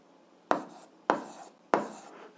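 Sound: writing numbers by hand

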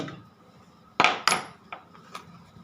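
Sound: hammering eyelets into canvas shoe fabric

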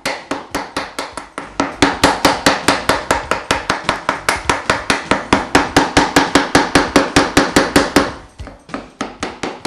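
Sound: chisel removing waste from housing joint trench

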